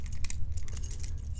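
Metal keys jangle and clink together after a Guard 445 padlock has been picked, a bright, close, irregular rattling that lasts throughout with no talking.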